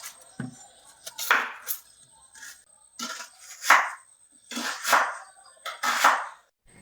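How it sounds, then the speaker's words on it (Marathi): Onion being cut into thick chunks on a kitchen board while preparing a spicy brinjal masala, heard as a series of sharp, close knife chops in irregular bursts with short pauses between them. "सर्वात आधी आपण कांदा कट करून घेऊयात."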